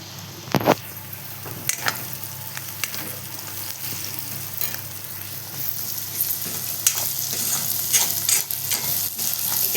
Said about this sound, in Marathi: आता आपण त्याला एकत्र करून घेऊया.